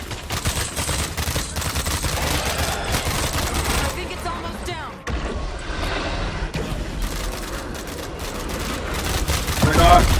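Rapid bursts of automatic gunfire crackle almost continuously in the co-op zombie survival game State of Decay 2, loud and dense, while players talk excitedly over the shooting.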